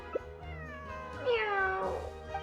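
A cat in the Genshin Impact video game gives one clear, drawn-out meow with a rising then falling pitch, close and alone, after a brief click.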